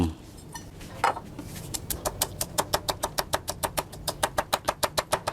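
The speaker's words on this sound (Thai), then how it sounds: "ขั้นตอนนี้เราจะโขกหยาบนะครับ" Chili, garlic and shallots pounded coarsely into curry paste in a mortar, with a steady run of sharp, evenly spaced knocks that quicken into a fast rhythm, close and fairly loud.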